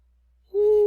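A human voice imitates a great horned owl with one long, steady, hollow hoot that starts abruptly after a quiet moment and holds close and clear.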